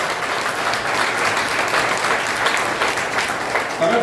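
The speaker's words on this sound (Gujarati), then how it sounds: "એકદમ જોરદાર તાળીઓ ડોક્ટર કરશનભાઈ પટેલ" An audience at an NSS annual camp organ-donation awareness event applauds Dr. Karshanbhai Patel, a loud, dense, sustained round of clapping filling the whole stretch without a break.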